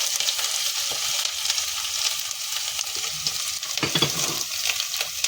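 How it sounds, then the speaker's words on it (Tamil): Curry leaves, green chilies and ginger frying in oil for fish curry, a dense steady sizzle with stirring scrapes and a few louder crackles near the end, close by. "இதில் கருவேப்பிலை போட்டுக்கிறேன், பச்சை மிளகாய் போட்டுக்கிறேன், இஞ்சி இந்த வெள்ளத்தையும் போட்டுக்கலாம்."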